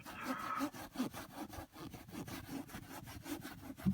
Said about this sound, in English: just rubbing as best you can